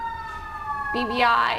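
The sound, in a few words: emergency vehicle sirens passing outside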